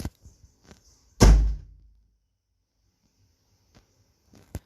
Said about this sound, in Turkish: Kapıyı kapattım da. O bayağı ses oldu.